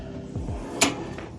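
A drawer on a new tool box slides open, a short scraping glide followed by a sharp metallic clack, close and fairly loud with no speech.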